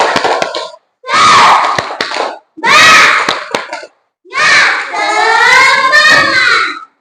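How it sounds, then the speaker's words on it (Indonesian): Classroom children repeating the tepuk semangat clapping chant: loud group shouting in four bursts punctuated by crisp claps, separated by short silences, ending in a longer drawn-out chanted cry. "Oke, sekali lagi tepuk semangat."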